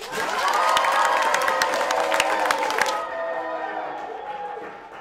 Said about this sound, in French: un tonnerre d'applaudissements pour Lucas.